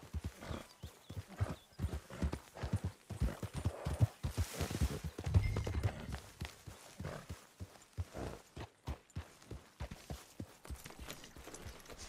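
Horse hooves clip-clop steadily on a hard surface in the video game Red Dead Redemption 2, with a snort or whinny partway through and faint ambient noise.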